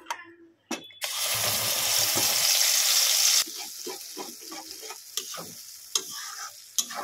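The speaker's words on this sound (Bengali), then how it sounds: "দেখুন এই পেস্টগুলো আমি দিয়ে দেবো তেলে। তেল গরম হয়ে গেছে।" Spice paste hits hot oil for a Bengali fish curry, bursting into a loud, steady sizzle that holds for a few seconds, then settles into quieter frying crackle with occasional stirring clatters.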